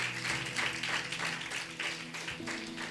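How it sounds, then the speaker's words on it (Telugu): Church congregation applauding together, a dense continuous clapping that swells and fades over a few seconds, with a faint voice underneath. "మరొకసారి క్లాప్స్ కొడదాము"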